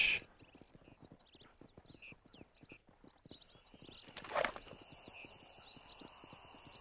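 Horses in the video game Red Dead Redemption: a steady, rapid clip-clop of hooves runs throughout, with a brief whinny partway through. The sound is fairly quiet and carries no speech.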